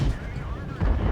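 The Astron Rex tank's autoloader fires in World of Tanks, one heavy, booming low shot with a rumbling tail that fills the whole short stretch.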